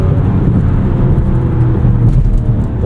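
A 2025 Mazda CX-70 3.3 turbo SUV drives along with a loud, steady low road and engine rumble heard from inside the cabin, with slight shifts in pitch as the transmission downshifts.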